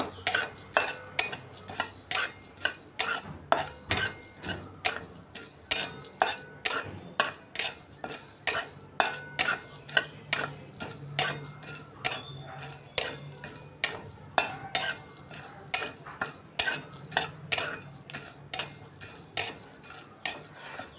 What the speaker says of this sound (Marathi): मसाल्यांचा छान असा रंग बदलेपर्यंत आपण याला भाजणार आहे।